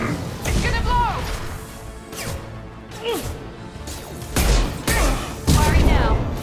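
A Mass Effect 2 firefight erupts in heavy crashing explosions and bursts of gunfire, loud and close, several sharp impacts clustering toward the end, with faint voices in the mix.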